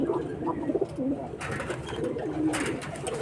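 Giribaj pigeons from Rajshahi cooing nearby, soft repeated throaty coos rising over a low rumbling background, fairly close and steady through the moment.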